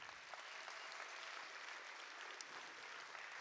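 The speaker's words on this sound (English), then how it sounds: "one applause for all of them" Steady audience applause at a youth orchestra and choir jazz concert in Abu Dhabi, honoring the senior choir; continuous clapping from a crowd, fairly distant and even, with no voices.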